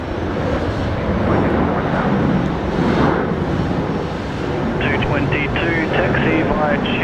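A Boeing 787 jet taxis out at Brisbane Airport, producing a steady, broad engine roar with wind buffeting at the microphone, while radio chatter cuts in briefly near the end.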